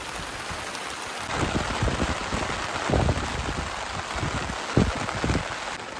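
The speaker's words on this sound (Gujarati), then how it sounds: "વરસાદ તો 1 મિનિટ પણ બંધ નથી થતો. એક ધારો બહાટી બોલાવે છે." Heavy rain falls steadily at a night campsite, a dense hiss with scattered louder drops and spatters close by, and no voices.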